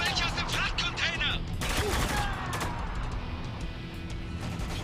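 Automatic gunfire in the Spec Ops: The Line video game: rapid bursts of shots crackle over a busy battle bed, heaviest early and thinning out toward the end, with no speech.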